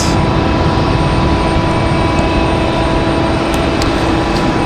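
American Airlines jet airliner passing near Raleigh Durham International Airport, a steady loud broadband engine roar holding constant throughout with no talk over it.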